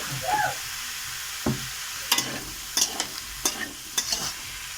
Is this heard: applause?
no